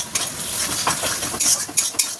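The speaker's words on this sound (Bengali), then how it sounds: "মশলাটা একটু ভাজা ভাজা হয়ে গেছে" Ground turmeric, red chilli, cumin and coriander fry in a pan while being stirred, giving a close, steady sizzle broken by quick scraping and clinking strokes of the spoon.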